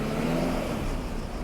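A car drives along the Appia Antica, an ancient Roman road, its engine and tyre noise forming a steady, fairly loud rumbling wash that holds throughout without talk.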